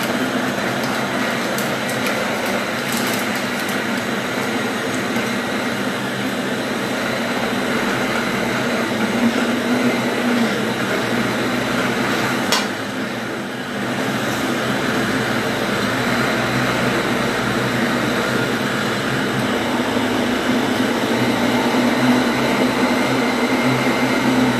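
A kitchen mixer churns parmesan and Espelette pepper shortbread dough with a steady, loud motor whir that holds for the whole stretch, nearby and unbroken apart from a brief thump midway.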